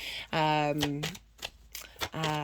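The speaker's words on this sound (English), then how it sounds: "I'm going to carry on shuffling until they put the deck down" Tarot cards shuffled close up in short, crisp riffling bursts, with a quiet voice and brief pauses between the shuffles.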